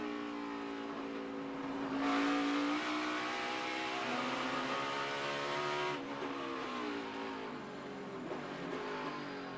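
A NASCAR stock car engine at the 2018 Toyota Save Mart 350 road course revs hard in third gear toward the rev limiter, then drops pitch as it downshifts, loud and continuous without talk.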